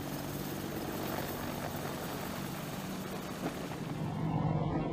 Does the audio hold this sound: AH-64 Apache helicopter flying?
yes